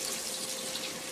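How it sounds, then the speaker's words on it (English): Water pours in a steady, quiet hiss into an electric pressure cooker to cook beans, running continuously with no speech. "I'm now going to add in the water for my three beans."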